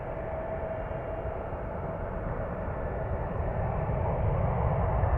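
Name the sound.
United Airlines 926 airliner flying to Frankfurt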